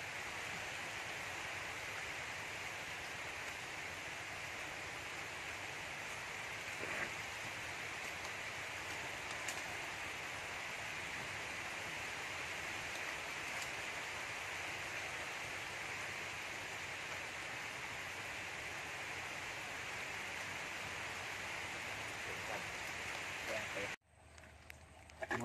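Rain pours steadily onto a river in the Vietnamese countryside, a dense, even hiss that holds throughout and cuts off abruptly near the end.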